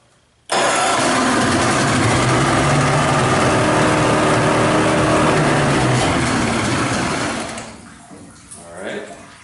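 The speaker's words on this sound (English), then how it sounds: "So we're going to start it up." A small engine, just serviced after carburetor removal and repair, catches abruptly and runs loud and steady for about seven seconds before dying down and sputtering toward quiet.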